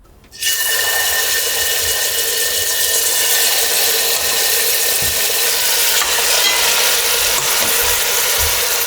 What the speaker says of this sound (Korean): 냄비에 기름을 두르고 잘 재워진 토끼고기를 굽겠습니다.